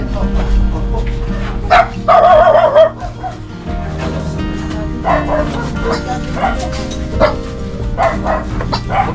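A dog barks and yips amid an outdoor exchange between people, with a burst of loud warbling barks early on and scattered shorter yelps afterwards, partly mixed with voices and background noise.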